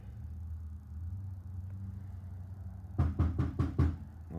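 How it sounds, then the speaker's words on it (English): Five sharp knocks on a door come in a quick, evenly spaced burst, loud and close, cutting through a steady low hum in a room with a vintage Collins radio. "Oh, somebody's knocking."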